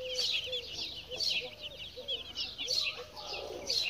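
Hens in a coop give a string of soft, repeated clucks over a busy wash of chirping and chatter from the flock, steady throughout.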